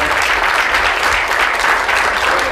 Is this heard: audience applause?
yes